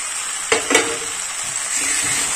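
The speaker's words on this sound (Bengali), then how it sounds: "চিকেন আলু 5 মিনিট ভালোভাবে কষাই করে নিতে হবে" Chicken and fried potatoes sautéing in spices in a village-style pot, a bright close sizzle with two quick stirring scrapes early on, no talk.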